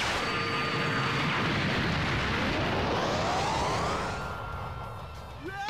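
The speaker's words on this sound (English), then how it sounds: "Alright, next character, time for Nappa. Yeah. Nappa Cannon?" Nappa Cannon ultimate attack from the Dragon Ball Raging Blast 2 video game: a loud, sustained roaring energy blast with a rising whine that sweeps upward over several seconds, then fades slightly at the end.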